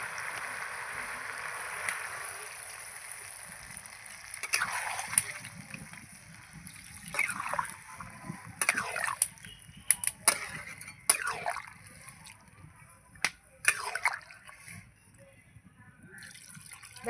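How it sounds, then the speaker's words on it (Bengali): Water trickles and splashes into a pot of meat curry cooking on the stove. The pour comes in a few soft, intermittent bursts over a quiet background. "এবার আমি পরিমাণ মতো জল দিয়ে দেবো।"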